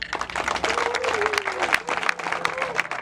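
A crowd at a political rally in Bonoua, Côte d'Ivoire claps and cheers in a dense, continuous wash of applause while a voice carries over it.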